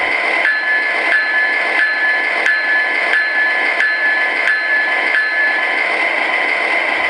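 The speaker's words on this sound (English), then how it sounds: "And the bell." The Proto Sound 3.0 bell on an MTH Premier Line Canadian Pacific Holiday Train model locomotive rings in evenly spaced strikes, roughly one every two-thirds of a second, clear and close over a constant mechanical hum.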